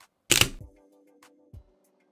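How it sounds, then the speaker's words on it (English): A Pentax 67 medium-format camera firing: one loud, close mechanical clack of the mirror and shutter, a brief ringing tail, then a quieter second clunk as the mirror resets, with no talking. "The mirror is very, very loud, as is the shutter."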